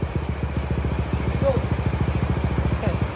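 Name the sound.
motorcycle engine running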